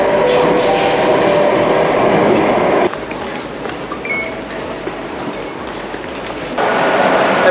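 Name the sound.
busy metro train in Singapore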